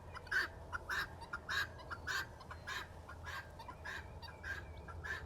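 Several turkeys in a herd gobble and cluck as they approach through the woods, a rhythmic series of loud, rapid calls repeating over steady low background noise.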